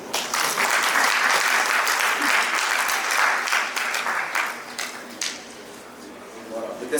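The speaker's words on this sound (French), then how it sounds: "Applaudissez pour moi" Sustained applause from an audience at an African trading summit, a dense clatter of many hands filling the room before thinning toward the end, with a voice speaking over it.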